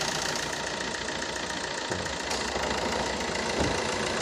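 A Fiat Linea multijet diesel car engine idling steadily after start, with a continuous close, even clatter and no voices.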